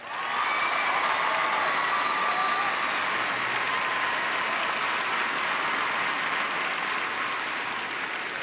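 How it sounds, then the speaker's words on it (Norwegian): A large television studio audience gives Per Sunnes loud, sustained applause mixed with some cheering at a Norwegian Melodi Grand Prix 2012 semifinal, a dense, even roar that runs steadily throughout. "Så i en stor applaus"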